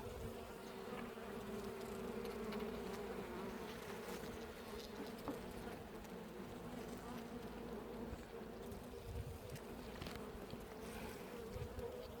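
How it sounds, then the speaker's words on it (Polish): A steady, droning buzz of many bees, continuous and even throughout, with no voices. "Pszczółki z pyłeczkiem sobie tutaj zasuwają"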